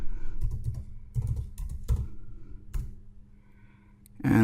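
Someone types an email address and password on a computer keyboard, a close run of key clicks in uneven bursts over a low room hum, with no one speaking.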